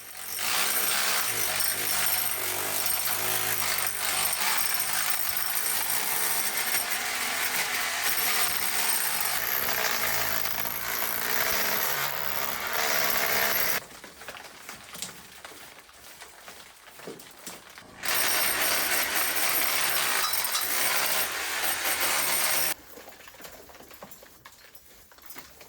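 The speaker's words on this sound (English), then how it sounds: "and then with a power tool" A loud, harsh power tool grinds continuously, clearing cement from a stone wall, stopping briefly twice before starting up again, with small scraping sounds in the pauses.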